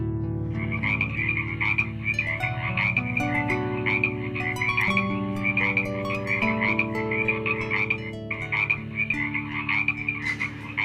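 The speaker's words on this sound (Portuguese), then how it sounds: "A segunda praga, a praga das rãs." A dense chorus of frogs croaks steadily and loudly, many overlapping voices pulsing in rapid rhythm with no talk, evoking the biblical plague of frogs.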